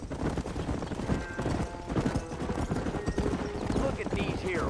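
Horses clip-clop at a walk in the Red Dead Redemption video game, steady hoofbeats with a whinny mixed into a busy, continuous game soundscape.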